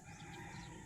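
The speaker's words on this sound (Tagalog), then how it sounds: "Ang daming ibon, oh." Birds call in a plantation, a brief, faint burst of fowl-like calling with a rooster-like tone, heard at a distance in a quiet outdoor setting.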